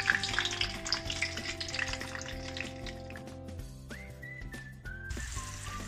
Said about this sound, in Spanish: Vamos a dejar que se fría bien todo esto para que vaya cogiendo la manteca todo el aroma del ajo, del clavo y del laurel